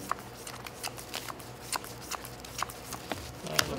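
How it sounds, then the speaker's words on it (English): Magic: The Gathering cards being shuffled at a Pioneer tournament table: quiet, crisp riffling ticks and soft card slaps scattered irregularly across a few seconds of calm room tone. "Let's shuffle."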